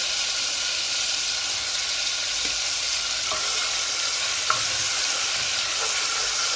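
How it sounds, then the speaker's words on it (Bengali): Garlic and salt frying in hot oil in a home kitchen, a steady, loud, continuous sizzle with a few faint clicks of utensils and no talking. "তেলটা একটা গরম হয়ে এলে দিলে দিলাম রসুন দিয়ে দিলাম রসুন"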